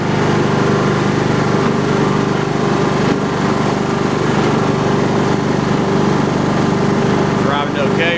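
A Husqvarna YTH20K46 riding lawn tractor drives along with a steady, continuous engine drone, loud and close, with no breaks in the sound.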